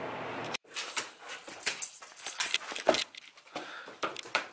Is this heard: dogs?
yes